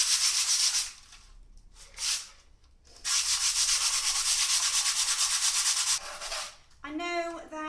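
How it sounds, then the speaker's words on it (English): A shiny table is sanded by hand with 80-grit sandpaper to take the shine off, giving steady rasping strokes with brief pauses between long passes, close and fairly loud. "So we're going to use a 80 grade sandpaper because I need to take the shine off this."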